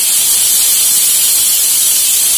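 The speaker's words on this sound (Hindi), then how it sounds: "कुकर की एक सीटी बज चुकी है" A loud, steady hiss of steam rushes out continuously, the sharp escaping-pressure sound of a cooker venting, with no talking.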